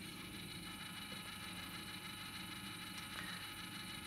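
A modulating valve actuator on a heating system drives closed with a steady, faint mechanical whir and fine ratcheting gear texture over a constant background hum, continuous and close, no speech.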